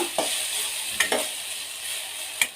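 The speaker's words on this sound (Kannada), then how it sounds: "ಟೊಮೊಟೊ ಸ್ವಲ್ಪ ಫ್ರೈ ಮಾಡ್ಕೋಬೇಕು ಹತ್ತರಿಂದ ಹನ್ನೆರಡು ಒಣಗಿದ ಮೆಣಸಿನ್ಕಾಯಿನ ಹಾಕ್ಕೊತ ಇದ್ದೀನಿ" Tomato and dried red chillies fry in a pan at home, a steady close sizzle with a few brief stirring scrapes and clinks.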